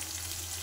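Dal masala fries in a pan with a steady, close sizzle as garlic paste goes in, a continuous bright hiss and crackle with a low hum underneath, short and even throughout.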